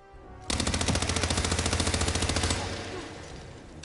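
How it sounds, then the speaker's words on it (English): Rapid automatic gunfire in a video game opens abruptly and rattles loud and steady for about two seconds, then cuts off and trails into a short ringing decay. "Just opening fire here."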